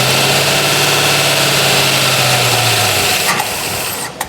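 A 1966 Ford Mustang GT Fastback engine runs at a fast, steady high idle from a vacuum leak close by, a continuous droning hum with a couple of faint clicks near the end.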